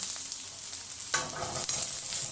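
Dried fish fries in a pan, a close, steady hissing sizzle that swells into a louder crackling burst partway through and then keeps going evenly.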